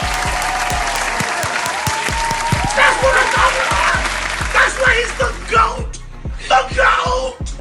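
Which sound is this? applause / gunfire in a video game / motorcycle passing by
applause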